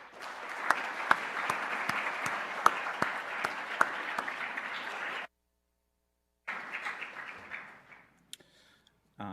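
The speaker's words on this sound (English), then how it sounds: "accept our applause for your dedication to Washburn" An audience at a university employee recognition ceremony claps steadily for long-serving staff. The applause is dense and moderately distant, breaks off briefly, then resumes and fades out.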